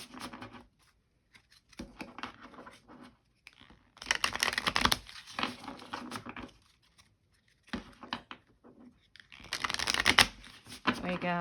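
Tarot cards are shuffled in several riffling bursts separated by pauses, close and crisp, with a voice speaking softly between them.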